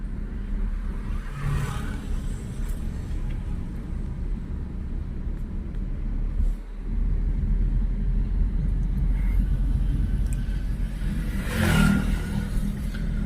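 Steady engine hum and low rumble of a car driven slowly between white lane markings during a beginner driving lesson in Lucknow, continuous and close, with a slight rise in engine noise near the end.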